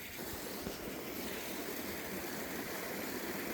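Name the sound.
waterfall at Glencoe flowing down to a bridge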